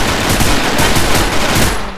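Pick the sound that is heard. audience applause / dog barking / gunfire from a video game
gunfire from a video game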